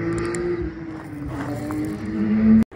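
A yellow Audi RS6 C8 Performance revs hard and loud close by on the Dijon-Prenois circuit, its engine note rising steadily before cutting off abruptly near the end.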